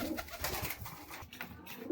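A Giribaj pigeon coos close by in soft, repeated low throaty pulses, with light rustling and no talking.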